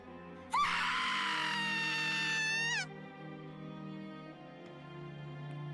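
A girl in a Higurashi visual novel lets out a loud, shrill scream that lasts about two seconds and stops abruptly, with quiet background music continuing afterward.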